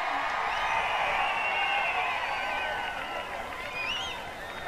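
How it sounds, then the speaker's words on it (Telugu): A large crowd at a political rally breaks into steady applause and cheering, a dense, continuous wash of clapping with a few whistles and whoops on top, easing slightly toward the end. "గెలిపిస్తామంటే గట్టిగా చప్పట్లు కూడా చెప్పండి."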